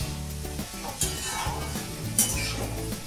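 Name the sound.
chopped potatoes frying and stirred in tadka masala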